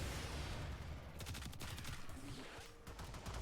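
Phage shotgun-style weapon firing in Warframe, a sequence of rapid shots from about 1.2 seconds onward over a dense, noisy game background, close and fairly loud.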